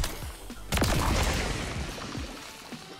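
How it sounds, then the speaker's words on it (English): Gunfire in a Call of Duty video game with an alien-themed weapon skin, a sharp loud blast followed by a green-sludge explosive death effect, with decaying rumble and a few fainter shots after. "So nice little explosive death effect of green sludge, which I think is pretty dope"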